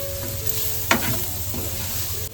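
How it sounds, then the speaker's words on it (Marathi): Fried rice sizzles steadily in a pan while turmeric and Maggi masala are stirred through it. A single spoon scrape rises briefly near the middle over the constant low frying hiss. No one speaks. "सर्व मिक्स करून घेते."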